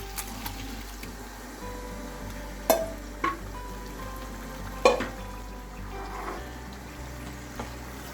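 Grated carrots going into a hot pan for gajar halwa, frying with a steady low sizzle while a spoon stirs and clinks against the metal a few times.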